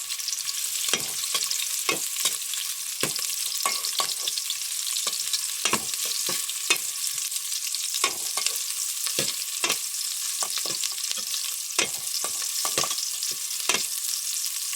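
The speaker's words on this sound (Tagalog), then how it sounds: "ilagay na natin ang bawang at sibuyas. Tapos, halo-haloin natin ito." Garlic and onion sautéing in oil in a saucepan for prawn sinigang: a bright, steady hiss of frying with frequent soft scrapes and taps of the stirring spoon, moderately quiet and with no voices.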